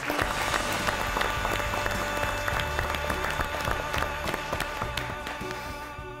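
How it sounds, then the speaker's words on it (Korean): A studio audience at a Korean lecture show gives steady, loud applause welcoming the family of independence activist Lee Hoe-yeong and his brothers, clapping densely and continuously throughout. "박수로 맞이해 주시기 바랍니다."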